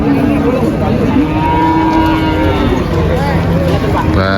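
Limousin cattle at the Mundilan livestock market in hot sun give loud, drawn-out moos that overlap and follow one another close by.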